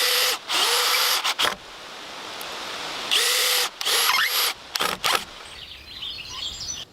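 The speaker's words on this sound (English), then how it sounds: "I am attaching the wooden planks to the roof beams using a drill" In a forest, a drill attaches wooden planks to the roof beams of a log cabin, several loud close bursts of whining motor with short gaps between, and faint birdsong in the background.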